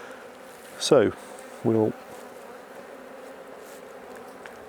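Honey bees in an open Langstroth hive give off a steady, close buzzing hum throughout, with a voice speaking briefly near the start.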